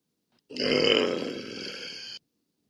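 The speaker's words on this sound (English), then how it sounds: "That sounded like a big ass burp to me." A single long, loud burp, rough and drawn out for nearly two seconds, then silence.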